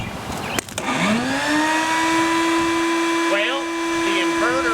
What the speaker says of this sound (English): the inverter seems to be working just fine and running the vacuum cleaner